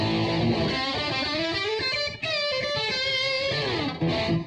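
A Gibson ES335 electric guitar is played through its back pickup, sounding strummed chords with a warm but slightly distorted, amplified tone and short gaps between phrases.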